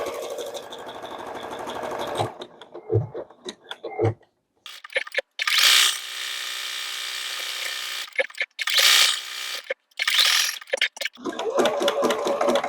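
An embroidery machine stitches a cake-themed quilt block, its steady mechanical buzz running in several bursts separated by short pauses and brief clicks, close and fairly loud.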